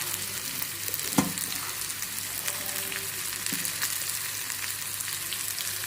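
Curry leaves and chana dal frying in hot oil for Karnataka-style lemon rice, a steady close sizzle with a brief sharp crackle burst early on and a softer pop later, no voices.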